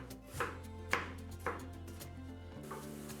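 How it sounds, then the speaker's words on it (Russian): Onion, about 100 grams, being chopped with a knife on a board: a few distinct, crisp chopping strikes spaced roughly half a second apart over a low background hum, close and fairly quiet, with no talking. "нарезаем лук примерно 100 грамм"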